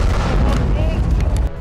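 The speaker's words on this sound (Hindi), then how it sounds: "जोरदार धमाके की आवाज आई।" Heavy explosion from a grenade hitting a tank in Gaza combat, a loud low rumbling blast that rolls on and decays, with a voice faintly heard over it.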